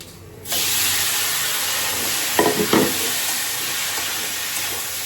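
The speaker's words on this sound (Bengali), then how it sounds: "সিম ভাজিটা তেলে দিয়ে দিচ্ছি এভাবে করে" Flat beans (shim) frying in hot oil: after a half-second of quiet, a loud, steady broadband sizzle sets in and holds to the end, with a couple of brief stirring clatters partway through and no talking.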